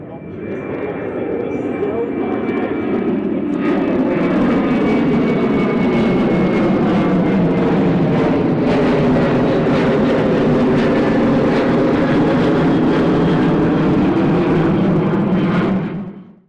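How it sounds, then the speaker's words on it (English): Racing cars at Donington Park circuit, heard trackside from the spectator side of the fence: a loud engine roar builds and sweeps past, sustained for several seconds before cutting off. "Something else that you really pick up on from being trackside is the sound and the smell of the cars."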